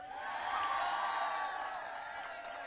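A campaign rally crowd in Cumberland County, Pennsylvania, cheers and applauds in a broad, sustained roar that slowly fades toward the end.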